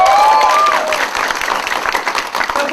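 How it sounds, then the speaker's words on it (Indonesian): A live audience at an Indonesian webinar applauds in a loud, sustained wash of clapping with some cheering. A whistle-like tone sounds briefly near the start, and there are hints of voices under the clapping. "tepuk tangan Bapak Ibu akan terdengar"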